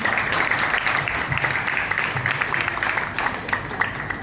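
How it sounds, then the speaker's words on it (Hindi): An audience at a Hindu temple talk in Singapore applauds to welcome a revered spiritual teacher, with steady moderately loud clapping from many hands throughout. "मैं चाहता हूँ एक बार जोरदार तालियों से स्वागत करें हमारे श्री महाराज जी का"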